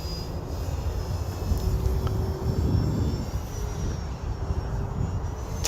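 An H-King Wargo Edge 540T electric RC plane flies a tight loop at nearly three-quarter throttle, its motor giving a steady, buzzing drone at moderate distance that swells slightly mid-maneuver over outdoor background noise.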